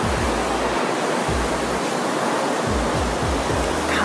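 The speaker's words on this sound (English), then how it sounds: "We don't ever get these kind of waves here." Heavy surf during Tropical Storm Debby: loud, continuous roar of breaking ocean waves on the shore, with surging rumbles rising and falling and strong wind noise, no voices.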